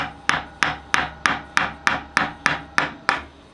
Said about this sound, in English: To remove this assembly, you just need to give it a little tap with a hammer